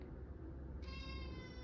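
A house cat gives a single short meow close by, over a steady low background hum with no talk.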